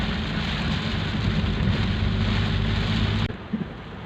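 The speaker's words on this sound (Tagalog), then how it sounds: "Sa sobrang lakas ng ulan," Heavy downpour during a flood in the Philippines, a loud, dense, unbroken roar of rain that cuts off abruptly near the end, leaving a few faint knocks.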